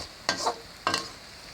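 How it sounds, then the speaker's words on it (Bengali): Turmeric fries in a pan with a wok-style stir, two short scraping, sizzling strokes about half a second apart, close and fairly soft, with quiet pauses between. "হলুদটা দেওয়ার পর কিছুক্ষণ নাড়তে হবে ভালোভাবে।"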